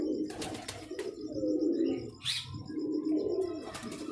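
A female Shahjahani pigeon coos in two drawn-out, throaty rolling phrases close by, with a brief higher chirp between them and no talking.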